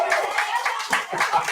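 A short burst of a few distinct hand claps from a clap-button sound effect on a live stream, quick and uneven, with faint voices in the background.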